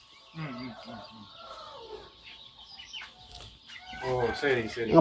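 Chickens of the Siruvidai native breed cluck and squawk close by on a poultry farm in Namakkal, irregular bursts growing louder toward the end, with some talking mixed in.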